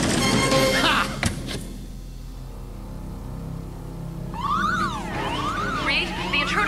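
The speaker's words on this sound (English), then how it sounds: "the intruder alarm's tripped in the ready room" An intruder alarm trips in a ready room, sounding as loud, repeated rising-and-falling electronic sweeps that begin about two-thirds of the way through, following a stretch of busier mixed sound.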